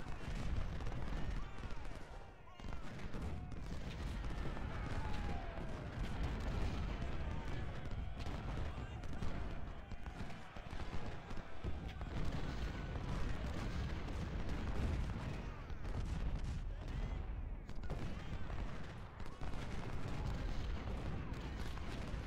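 Howitzer artillery fire on a Civil War battlefield in Ultimate General: Civil War, a steady rumbling din of distant booms and scattered shots rolling on without pause, low and muffled.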